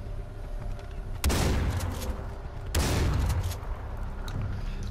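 Gunfire in the video game Far Cry 4 comes as two loud, dense bursts a little over a second apart, each a sharp crack that leaves a rumbling tail over a constant low background, with no talking.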